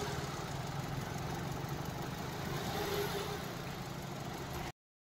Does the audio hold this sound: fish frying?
no